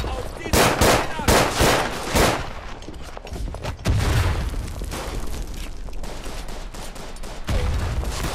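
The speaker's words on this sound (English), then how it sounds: "That's a grenade." A grenade bursts amid crackling trench gunfire in the First World War shooter Verdun, with repeated loud sharp blasts early on, then a sustained rumble of distant shots and a low thump of explosions continuing throughout.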